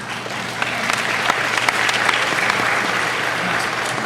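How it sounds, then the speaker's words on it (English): Convention audience at a Doctor Who panel at San Diego Comic-Con 2008 breaks into steady applause, a dense sustained clatter of many hands from a large crowd throughout. "Applause for common sense."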